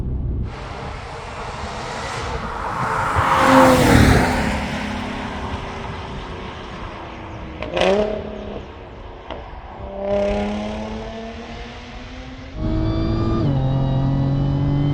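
An Audi S4 B8 roars on the road, its engine climbing through several hard accelerations with rising pitch, brief dips between gear changes, and a sustained loud pull at the end, with no voices over it.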